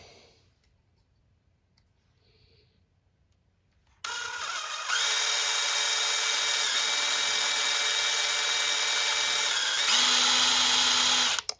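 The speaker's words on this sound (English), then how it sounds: "this is a numbered drill bit, and it's number 32" A power drill spins a number 32 numbered bit into a small 1/24 scale Formula One RB15 model part to fit an LED, pressed lightly, starting after a quiet pause and whining steadily and loudly for several seconds before stopping abruptly.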